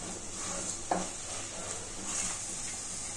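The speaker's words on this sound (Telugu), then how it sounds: "కారాన్ని నూనెలో వేపి కలుపుతానండి" Chili powder frying in oil in a pan for aloo paratha filling, a steady soft sizzle with one brief scrape of stirring near the start and quieter stirring later.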